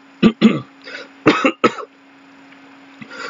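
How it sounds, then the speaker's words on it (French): Several short, harsh coughs close to the mic, two quick bursts then two more after a pause, with a steady low hum underneath and no talking. "je tousse beaucoup en ce moment"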